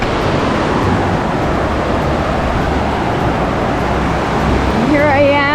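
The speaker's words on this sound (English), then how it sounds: "The waterfall is behind me." Waterfall in Crazy Woman Canyon, a loud, steady broadband rush of falling water filling the foreground, with a brief warbling tone near the end.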